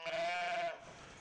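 Sheep at a desert monastery in the Chama Canyon give a single loud, close bleat that wavers for most of a second and then trails off into quiet ambience.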